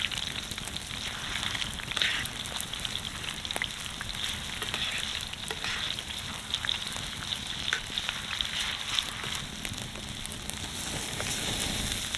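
Steak fat cap sizzling in a frying pan while cooking in the remote Pilbara, a steady, dense crackle that holds evenly for the whole stretch, fairly close and moderately loud with no talk.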